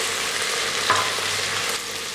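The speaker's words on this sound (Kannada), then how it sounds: "ಸಣ್ಣದಾಗಿ ಕಟ್ ಮಾಡಿಕೊಂಡು ಇದು ಹಾಕ್ಬಿಟ್ಟು ಒಂದು 2 ನಿಮಿಷ ಇದನ್ನು ಫ್ರೈ ಮಾಡ್ಕೊಳ್ಳಿ." Finely chopped tomato with onion fries in a pan for veg pulav, making a close, steady sizzle with a brief scrape or stir partway through and no voices.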